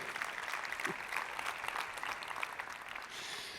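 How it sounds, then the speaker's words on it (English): Audience at a women's football convention applauding, a fairly faint, steady round of mixed clapping from a large hall that fades slightly toward the end. "We love it. Round of applause."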